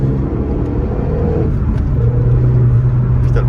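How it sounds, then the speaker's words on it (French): A Renault Megane 3 RS turbo engine pulls hard inside the car, a loud steady rumbling drone whose pitch rises, with a shift at about two seconds. "Putain, le passage de vitesse, il est sec."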